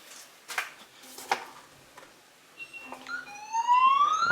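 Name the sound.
Sharp Cloud smarthome security system siren alert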